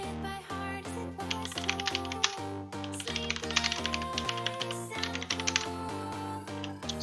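Commands are typed on a computer keyboard in quick, uneven bursts of clicking keys, close and fairly loud, with a tonal hum running underneath and no speech.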